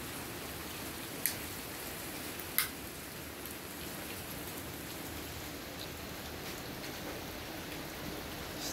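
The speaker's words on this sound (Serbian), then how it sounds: "I naravno, šta je ribolov bez kiše?" Rain falls steadily over a lake during a carp fishing session, a constant soft hiss of drops on the surface with two brief ticks early on, and no voices.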